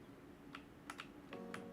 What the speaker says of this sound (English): There's the keyboard.